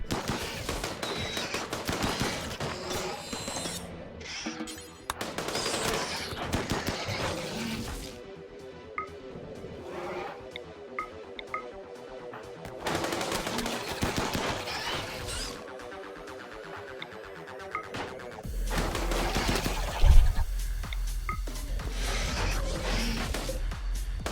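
Turret gunfire in the video game RimWorld, bursts of rapid shots in several loud clusters separated by quieter gaps, with a heavy thump near the end.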